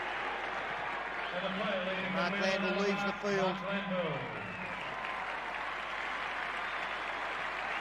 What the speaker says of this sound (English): Enormous cheer around the ground as the big man comes on.